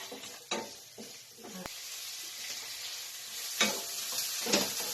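Garlic and ginger frying in a hot pan for chicken liver and gizzard adobo, a steady sizzle with bursts of stirring and scraping, close and fairly quiet, no talking.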